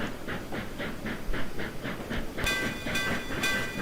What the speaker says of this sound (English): this thing had to blow its generic big boy sounding whistle